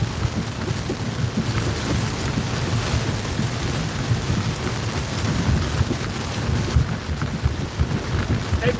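Torrential rain pours down in a thunderstorm near the Lickey Hills in North Worcestershire, a dense, loud, continuous roar of water with deep thunder rumbling underneath and no speech.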